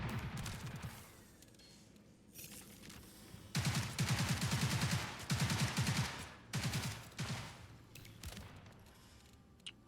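Bursts of automatic gunfire come in several separate volleys in an online search-and-destroy shooter game. Sharp, rapid shots return in repeated strafes, loud and close, with quieter background game sound in the gaps.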